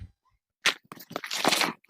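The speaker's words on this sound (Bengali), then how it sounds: "এখন আমি মাটিগুলা ঢেলে গুঁড়ো করে নিব।" Garden topsoil is crushed and crumbled by hand in a container for potting a mango tree. After a quiet start, a burst of close, dry crackling and crunching follows in quick clusters.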